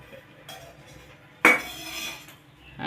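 A kadai pan is set down on a stove with a sharp metallic clank, followed by softer clinks as oil is added for frying, in a home kitchen.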